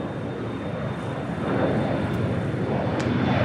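An airliner takes off at Los Angeles International Airport (LAX), its engines producing a broad, steady roar that swells slightly louder partway through, heard at a distance without talking.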